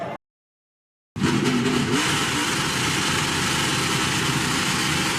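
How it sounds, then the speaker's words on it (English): A NASCAR Craftsman Truck Series pickup revs hard during a burnout at New Hampshire, a loud sustained engine roar with gritty tire noise that bursts in after a second of silence and holds steady. "definitely done burnouts in just about every part of the racetrack now"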